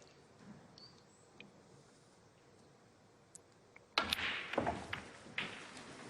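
A snooker cue ball driven hard into the pack of reds during a televised Northern Ireland Open 2024 semi-final, giving a sudden burst of sharp clacks and knocks as balls scatter after a quiet stretch of low arena hush.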